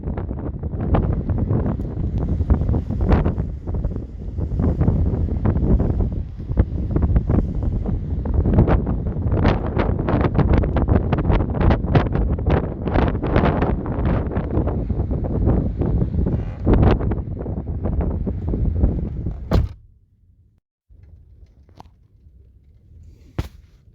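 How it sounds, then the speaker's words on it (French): Strong gusty storm wind of about 70 km/h in Morocco buffets the microphone in a loud, continuous roar for about twenty seconds, then drops suddenly to near quiet. "Je viens de fermer la porte du coffre parce que c'est la tempête dehors"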